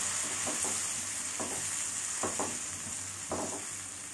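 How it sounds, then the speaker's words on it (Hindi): Two medium tomatoes, finely chopped, fry in a pan with a steady hiss and sizzle, punctuated by several soft stirring scrapes at irregular intervals. "अब मैं टमाटर ऐड कर रही हूँ।"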